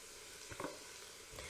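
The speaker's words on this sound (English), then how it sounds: "I'm going to mix those in and saute them for about 2 minutes until they turn a little glossy and shiny" Half a pound of sliced white mushrooms is sautéed with softened onions in a pan, giving a faint, steady sizzle with a few soft stirring scrapes.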